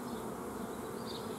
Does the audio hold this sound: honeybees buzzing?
yes